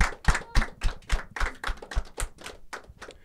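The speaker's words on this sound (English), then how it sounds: "Round of applause for everyone" An audience applauds at a Los Angeles Film School studio-tips session. Crisp, close claps come in a steady, even patter that keeps the same pace throughout, with no talking.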